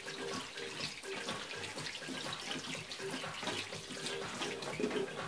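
Almonds are washed under running tap water, a faint, steady splashing stream that continues throughout.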